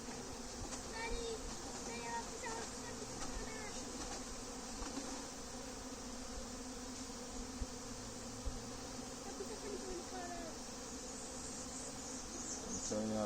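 Honey bees from an aggressive nuc hive swarm around during beekeeping, giving a steady, dense buzzing drone throughout, with individual bees passing near.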